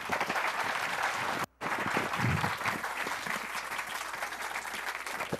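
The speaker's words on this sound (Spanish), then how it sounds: "¡Dadle un fuerte aplauso a Javier Santaolalla!" Audience applause greets a speaker at a live science comedy show, steady dense clapping that cuts out for a split second and then resumes just as full, filling the room.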